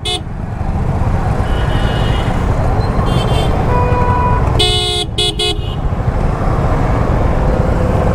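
A night motorcycle ride on a Royal Enfield Classic 350 through road traffic, with a constant loud roar of engines and wind and several sharp car horn toots midway, some in quick succession.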